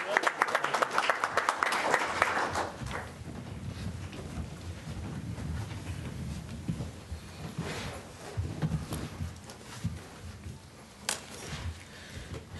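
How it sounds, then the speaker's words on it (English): Audience applause at a county commissioners public meeting, clapping strongest at the start then thinning out, with a low rumble and voices murmuring underneath as it fades. "let's give them a round of applause"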